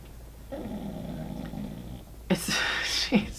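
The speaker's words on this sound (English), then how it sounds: "she's really snoring." A pet snores in steady, low, rumbling breaths held for about a second and a half, fairly close. Louder sharp noises follow near the end.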